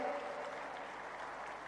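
Audience applause at the Gorakhpur Mahotsav festival, a steady dense wash of clapping from a large crowd at an outdoor event, sustained evenly throughout at moderate distance.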